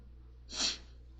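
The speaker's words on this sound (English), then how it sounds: "I'm sorry for the sniffles." A single short, breathy nasal sniffle, close and fairly soft, rising and fading within half a second against a low steady hum.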